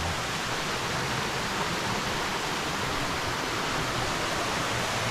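Water rushes steadily at Bang Pae waterfall, flowing into a pool. The roar is a dense, even hiss that stays constant throughout, with no voices.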